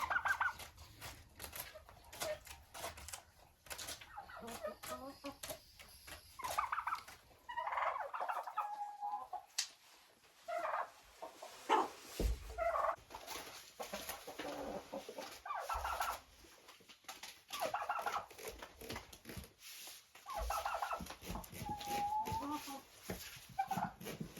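Turkeys gobble and call in a farmyard as the birds eat cabbage, with bursts of noisy fowl sounds recurring irregularly throughout at moderate loudness, mixed with rustling and other poultry clucks.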